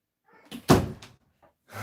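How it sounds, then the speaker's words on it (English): A garage door is shut with a firm thump and brief rattle, preceded by soft handling noises and followed by a faint knock in an otherwise quiet room. "I gotta shut the door."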